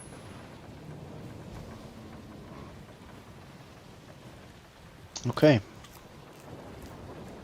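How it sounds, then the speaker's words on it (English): A storm at sea in the pirate video game Skull and Bones brings a steady hiss of rain with a low rumbling undertone throughout, and one brief spoken word cuts through near the end. "Through the storm we go."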